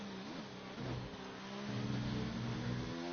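A Mercedes-powered F1 car accelerates steadily through a DRS zone at the Austrian circuit in a racing video game, its engine note climbing and holding loud and continuous, with rising harmonic whine and no talk.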